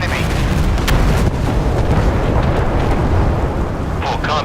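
Warship guns firing in a naval combat video game, a loud continuous roar of heavy booming blasts that blend into a dense rumble throughout.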